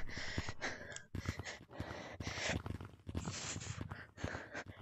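Heavy, repeated breaths from an asthmatic player in Gorilla Tag VR, close to the microphone, coming in uneven gasping bursts with short pauses between.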